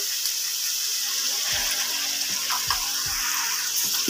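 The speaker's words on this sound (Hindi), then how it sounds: "हल्का सा पानी ऐड करेंगे।" A little water added to a pan of frying peas for matar pulao, producing a steady hissing rush over the sizzle, with a few low thumps and clinks of the pan near the microphone.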